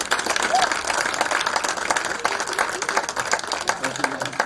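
A crowd claps in sustained applause at a high school senior athletic awards ceremony, with scattered voices and movement mixed in underneath.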